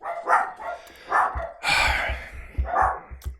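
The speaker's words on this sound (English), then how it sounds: "the doorbell rang and now the dogs are going crazy" Household dogs erupt in barking after a doorbell, sending out several loud, ragged bursts of barks and yips in quick succession from close by.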